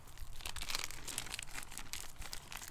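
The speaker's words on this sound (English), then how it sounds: "take a couple of leaves, a couple of dead leaves, ball them up, crumple them up like so until it's about the size of a marble" Dry dead leaves are crumpled by hand into a small marble-sized ball, giving a continuous faint, close crinkling and crackling that runs for a few seconds without talk.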